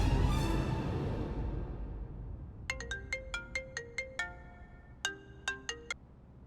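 A telephone ringtone sounds as bright electronic melodic beeps in two quick bursts, clear and alone, right after a fading wash of noise.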